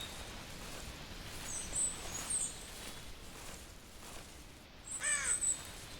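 A bird calls in a hunting video game, with a few short, high, raspy cries that stand out over a quiet background hiss, one burst near the middle and a louder cluster near the end.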